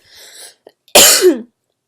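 A single harsh cough bursts out close to the microphone after a brief soft breathy sound, loud and abrupt, then silence.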